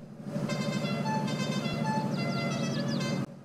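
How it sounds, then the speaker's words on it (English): A lifted diesel truck's horn honks in Farming Simulator 22: a steady multi-tone blare held for about three seconds over an engine rumble, with a few short rising chirps near the end. "That's a funny horn."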